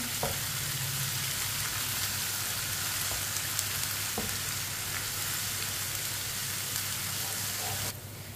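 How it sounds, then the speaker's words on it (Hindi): Steady, dense sizzling and crackling of ginger and garlic frying in hot oil in a pan, continuous and close throughout. "1 चम्मच कुटा हुआ अदरक डालेंगे, 1 चम्मच कुटा हुआ लहसुन। दोनों चीजों को 1 मिनट के लिए पका लेते हैं।"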